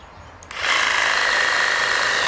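A Makita 18V brushless jigsaw with a soft start that cannot be switched off ramps up quickly from near silence, then runs at a steady, loud, whining buzz with no voices.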